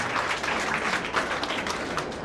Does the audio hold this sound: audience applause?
yes